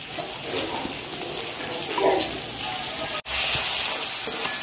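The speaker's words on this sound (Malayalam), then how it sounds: "ഇനി ഇതിലേക്ക് നമുക്ക് ഇഞ്ചി വെളുത്തുള്ളി പേസ്റ്റ് ഇട്ട് കൊടുക്കാം." Ginger garlic paste sizzles with sautéed onions in a hot pan for a rabbit biryani, giving a loud, steady, close frying hiss that cuts out for an instant before resuming.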